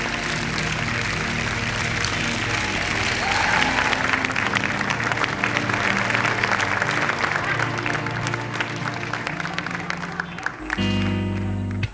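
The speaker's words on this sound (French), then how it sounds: "Sous vos applaudissements, s'il vous plaît" A concert audience at a show in French Guiana applauds in a steady wash of clapping over lingering band tones, with a brief musical sting near the end.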